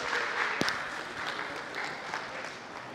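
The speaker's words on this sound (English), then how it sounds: "Round of applause again for the winning coach, Edgar Vasquez of the Kissimmee Lambs." Applause at an awards ceremony for the winning coach of the Kissimmee Lambs, a steady wash of many hands clapping, moderately distant and fairly quiet, with one sharp louder clap standing out early on.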